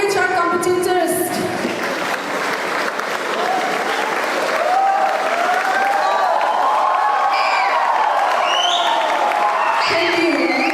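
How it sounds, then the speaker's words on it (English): A large crowd at a youth convention applauds continuously, with cheers and whoops rising over the clapping and a voice calling out through the noise. "Thank you. Keep clapping."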